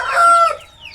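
Breeding hens on a farm give a loud, close cluck with a rising squawk, one short call that fades into quieter chatter.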